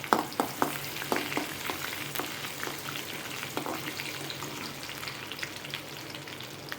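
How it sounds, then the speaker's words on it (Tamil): Chopped onions sizzle in a hot pan for a Tamil-style beans poriyal, with a steady frying hiss broken by sharp clicks and scrapes from stirring, strongest at the start and easing off toward the end. "இப்போது வெட்டி வச்ச வெங்காயம் கொஞ்சம் சேர்த்துக்கலாம்"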